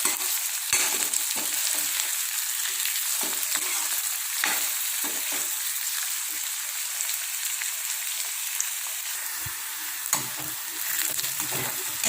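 Garlic and curry leaves stir-fried in a pan for karamani poriyal, a continuous close sizzle of hot oil broken by the scrape and clatter of stirring.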